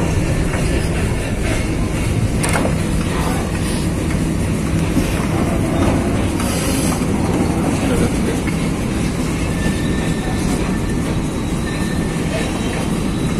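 Inside a KA Cikuray passenger train in Indonesia, a steady loud rumble of wheels on rails fills the cabin with occasional clatter and squeal, continuous throughout, with no clear talk.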